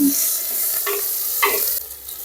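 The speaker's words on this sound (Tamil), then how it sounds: "நல்லா இஞ்சி பூண்டு பேஸ்ட் உள்ளே போட்டு நல்லா ஒரு வணக்கு வணக்கிட்டுக்கலாம்" Ginger garlic paste sizzles steadily in a hot pan for a Pallipalayam chicken fry, with a few scraping stirs of a spoon breaking through the close, continuous frying hiss.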